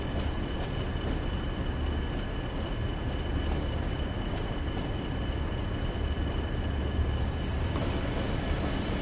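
Simulated train arriving into Leeds in Train Sim World 2 on a Northern Trans Pennine route: a steady, loud rumble of wheels and running gear with constant tonal hum, continuous throughout without talk.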